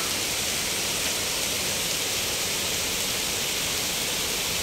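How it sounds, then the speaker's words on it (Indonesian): Steady rain falls at a campsite during a heavy downpour, an even, dense hiss that carries on without a break and with no voices. "Hujan turun sobat."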